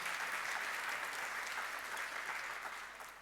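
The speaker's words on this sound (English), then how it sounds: "you can clap" Audience clapping at a talk on creating a career, a soft, even patter that holds steady and then fades toward the end, heard from a distance.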